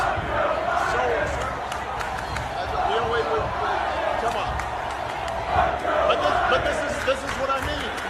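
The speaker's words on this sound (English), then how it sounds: "Let's hear Biden or Obama getting booed again" A large crowd boos Biden or Obama, a loud, sustained roar of jeering voices blended with shouts and some clapping that surges and swells across several seconds, with speech mixed in.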